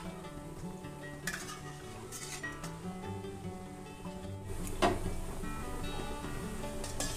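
Papad fries in hot oil on a low flame, giving a soft, steady sizzle with occasional light scrapes and clinks of a utensil as it is turned.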